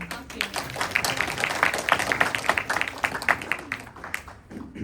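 Audience at a Ram Navami Sundar Kand and bhajan kirtan gathering in Calgary breaks into loud, dense applause that carries on for several seconds before tapering off near the end.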